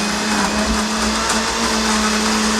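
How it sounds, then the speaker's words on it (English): A blender runs loud and steady at close range, its motor whirring continuously with slight shifts in pitch as contents churn. "we are going to blend this up"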